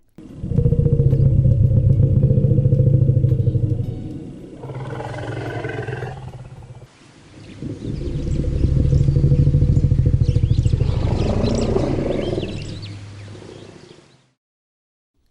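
Wild elephants roar loudly and close, in two long, rough, throaty bursts separated by a brief drop, with a higher, strained trumpeting edge near the end of each roar.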